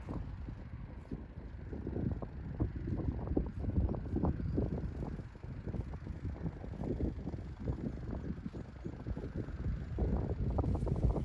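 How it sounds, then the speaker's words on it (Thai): Strong wind blowing outdoors in the New Forest National Park in England, a steady loud rumbling buffet across the microphone that surges and gusts throughout with no voices. "ลมก็แรงค่ะ"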